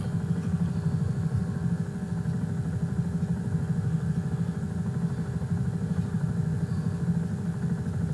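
Gyroplane engine running steadily during rotor pre-rotation before takeoff, a constant low droning hum with vibration, moderately loud and unchanging throughout, no voices.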